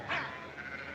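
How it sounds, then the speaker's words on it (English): A single short sheep bleat rises over a faint background, then fades into quiet ambience. "Adam, help me get those sheep on the move."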